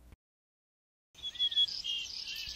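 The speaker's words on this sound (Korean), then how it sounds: "새소리가 들려오는 산속" Birdsong in a mountain forest after rain: after a brief low thump and a second of silence, steady high chirping and trilling sets in and continues moderately loud to the end, with no voices.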